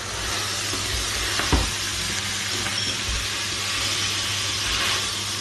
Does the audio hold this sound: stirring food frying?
yes